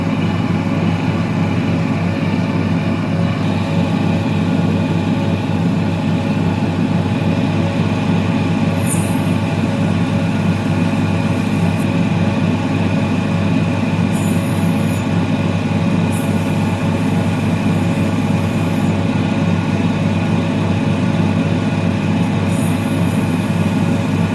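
A lapidary grinding wheel shapes a rough opal, giving a loud, steady motorized drone throughout with a few short, high squeals each time the stone touches the wheel.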